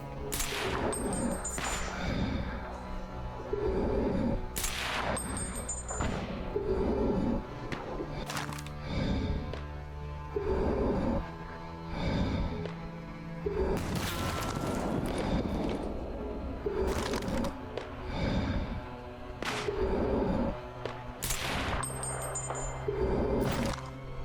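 Gunfire in the S.T.A.L.K.E.R. Anomaly video game: loud, sharp shots and short bursts ring out repeatedly through the whole stretch, some close and cracking, others echoing, over a constant noisy background.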